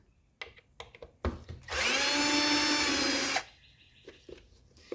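A power drill backs screws out of the antenna housing on a 1983 Mercedes 300D: one loud, steady whirring burst of about two seconds, framed by quieter handling clicks and knocks.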